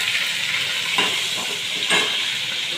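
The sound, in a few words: ginger garlic chili paste and green chilies frying in pan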